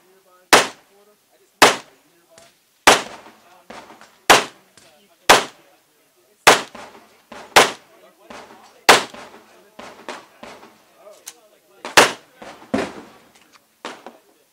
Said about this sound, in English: Shooting the P227.